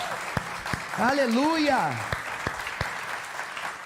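A church congregation at a celebration service claps in a steady, evenly spaced rhythm of separate hand claps while a voice calls out in a sung, drawn-out exclamation over it.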